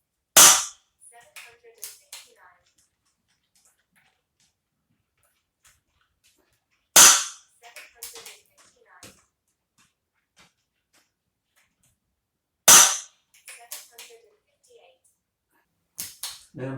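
A sub-12 .177 air rifle fires JSB Exact pellets, heard as three sharp, loud single shots spaced about six seconds apart, each followed by faint clicks and handling noise in an otherwise quiet setting.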